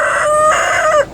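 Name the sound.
cockerels crowing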